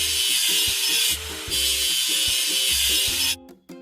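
Rust is scraped off a machine in a kids' mobile construction game, a rhythmic back-and-forth rasping sound effect in repeated strokes that runs steadily, then cuts off sharply near the end.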